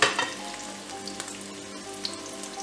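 An onion that has softened fries in a frying pan, heard as a close, steady crackling sizzle with a few small pops and light scrapes. The sizzle is fairly quiet, and there is no speech.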